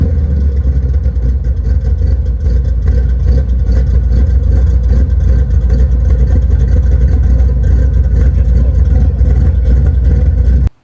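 A classic American car engine roars loud and close, a deep rumbling burble held steady at high revs throughout before cutting off abruptly at the very end.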